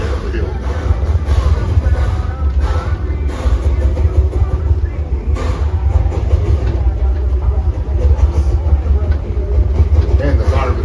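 A train engine labors uphill on a rainy night ride, its wheels slipping on wet rails; a loud, steady low rumble and grinding drone runs throughout with faint clatter, and people talk over it.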